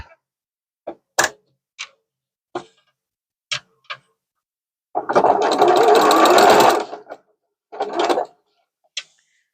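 A sewing machine stitches a seam on a fabric zipper pouch, a run of fast whirring close by for about two seconds, then a shorter burst, framed by scattered clicks and taps of handling.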